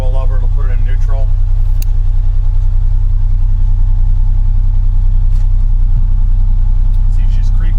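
The engine of a Polaris Ranger XD 1500 Northstar UTV hums low and steady as the vehicle creeps forward in drive, loud and close, while someone talks over it.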